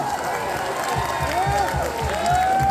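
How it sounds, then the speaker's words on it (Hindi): A crowd at an Indore meetup claps and cheers in scattered bursts, with whistles and excited voices rising over the applause. "कर दिया यार, तालियां, जोरदार तालियां।"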